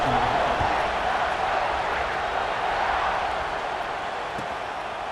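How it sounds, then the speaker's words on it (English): Stadium crowd in the College Football 26 video game, a steady dense roar and murmur of many fans that holds at an even level throughout, with no cheers standing out and no commentary heard. "this crowd is buzzing after that last score"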